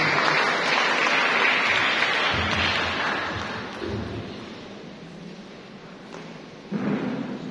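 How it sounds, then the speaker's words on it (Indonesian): Seminar audience applauding on a sustained, dense wash of clapping that gradually thins and fades, then swells again briefly near the end. "Sekali lagi kita berikan aplaus yang meriah untuk seminar Indonesia."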